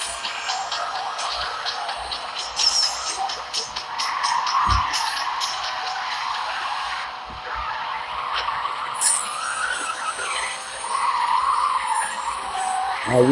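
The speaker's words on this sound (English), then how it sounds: "I'm going to drift this whole turn" Subaru BRZ drifting through a long turn, tires skidding and squealing steadily over a continuous engine drone, with a brief sharp knock partway through.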